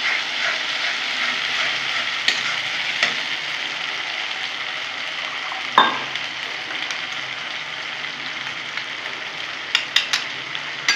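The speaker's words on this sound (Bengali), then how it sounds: "খুব সুন্দর করে এখন নেড়ে নেব" Cumin, coriander, onion paste, ginger paste, green chillies and dried red chillies frying in oil in a pan for tengra fish curry, a constant close sizzle with occasional sharp clinks of a stirring spoon.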